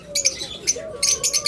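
A pair of opaline budgerigars chirps in quick, bright bursts, several short tweets close together over about a second and a half, loud and near.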